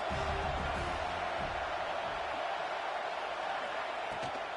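A football crowd at a USC game cheers and roars steadily behind the defense on a big third down, a continuous loud wash of voices with a brief louder swell at the start.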